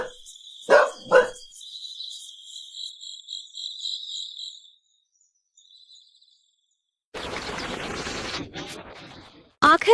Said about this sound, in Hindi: इस कुत्ते को भी अभी ही भौंकना था